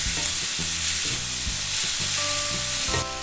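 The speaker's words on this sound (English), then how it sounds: "ginger, green chilies all together, and again saute it." Ginger and green chilies sauté in a pan, with a constant loud sizzle and rhythmic scraping strokes of stirring roughly every half second; a faint tonal ring enters near the end.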